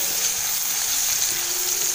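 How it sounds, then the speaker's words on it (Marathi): Chillies frying in oil in a kadhai, with a little salt added, give a steady, close hiss and sizzle throughout, with no talk. "असं तेलामध्ये ना परतून घ्यायच्या"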